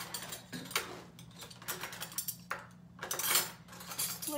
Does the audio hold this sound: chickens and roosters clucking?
no